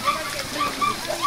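Mountain spring water flowing clean and steady, a continuous close splashing rush with small bubbling gurgles, heard alone without voices.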